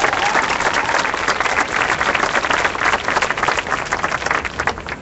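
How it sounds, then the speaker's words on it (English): A crowd at a Fight for $15 rally in St. Louis applauds steadily, a dense wash of many hands clapping at once, loud and sustained throughout with no pauses. "I want everybody to give themselves an applause for being brave enough to come out here."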